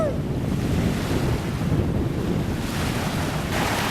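Loud ocean surf at a beach, with a constant roar of breaking waves and heavy wind buffeting close to the microphone throughout. No voices are heard.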